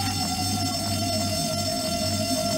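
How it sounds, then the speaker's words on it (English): A school fire alarm in the game Bully: Scholarship Edition rings as a steady electronic tone, continuous and fairly loud over low droning background noise, without talk. "Pull the fire alarm."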